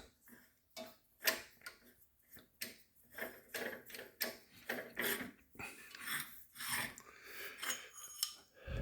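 A threaded part is unscrewed by hand from a machining tool's collet holder, making a series of close, quiet metallic ticks and scrapes in irregular bursts.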